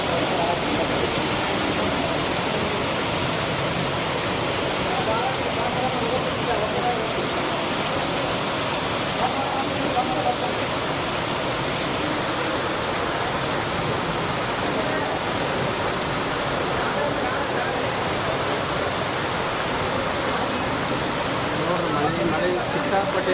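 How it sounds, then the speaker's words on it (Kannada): Heavy rain pouring down at a flooded railway station, a dense, steady roar of falling water that stays loud and unbroken throughout with no voices. "ಮಳೆ ಸಿಕ್ಕಾಪಟ್ಟೆ ಮಳೆ ಇದೆ."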